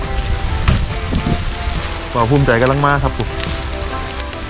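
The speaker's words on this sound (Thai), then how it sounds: "ฝนกระตกครับพี่น้อง" Rain falls in a forest in the Phu Phan hills as a steady, close patter and hiss that continues throughout while someone talks over it.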